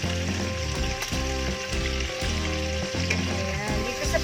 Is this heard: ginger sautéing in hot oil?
yes